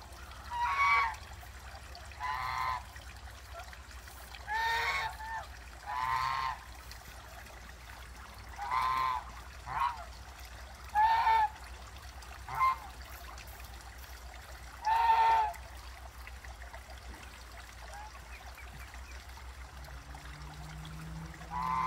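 Ducks quack in short, separate bursts every couple of seconds over a soft trickle of water, moderately close, with quiet pauses between calls.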